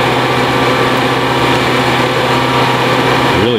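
Motor of a kinetic wood splitter running at low speed, a loud, steady, even hum with a constant tone throughout, no voices.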